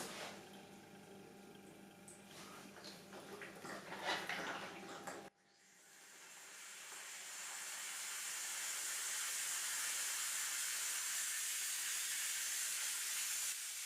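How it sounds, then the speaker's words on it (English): A steam cleaner mop's nozzle sends out a steady, loud hiss of steam that rises and holds after a brief pause, preceded by clattering and sputtering as the heating element warms up. "you need to wait a few seconds until steam comes out of the nozzle"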